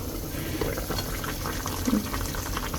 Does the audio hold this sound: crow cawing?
no